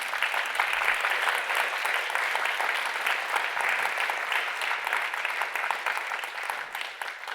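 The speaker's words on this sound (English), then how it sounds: "So let's give him a further round of applause." An awards-ceremony audience at a summit breaks into dense, sustained applause, many hands clapping together close and loud for several seconds before it gradually thins toward the end.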